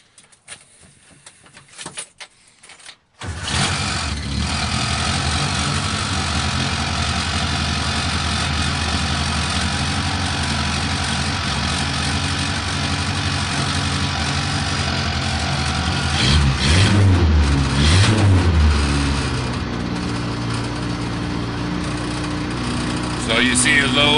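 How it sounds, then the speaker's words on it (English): Suzuki Samurai engine started after a brief crank, then settling into a steady, loud, close idle that holds throughout, with a voice talking over it. "I'll fire it up one more time so you guys can see the oil pressure."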